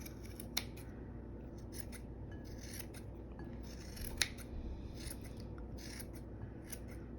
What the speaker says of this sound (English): we're gonna trim it so that it's small like this